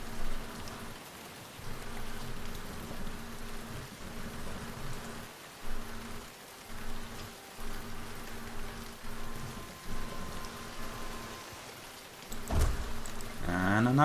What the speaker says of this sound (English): Will this rain never end, my lord?